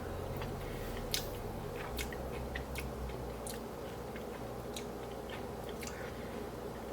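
Someone tastes food from a simmering pot to check the seasoning, with quiet, close chewing and soft wet clicks over a faint steady background hum.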